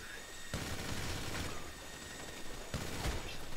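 Video game gunfire: sustained, dense shooting with a few sharper shots standing out, heard over a constant loud background of battle noise.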